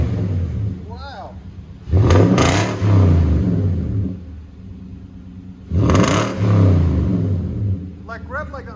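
A 2019 Nissan Titan 5.6L V8 fitted with a STILLEN cat-back exhaust revs twice in short bursts, a deep rumbling roar rising and falling between quieter idle, with people talking around the revs.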